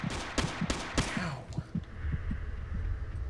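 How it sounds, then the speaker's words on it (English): Gunshots in the stealth action game Alekhine's Gun: a few sharp, fairly loud reports early on, followed by quieter scattered thumps and clicks under a low game ambience, with no talking. "Oh, who's shooting at me?"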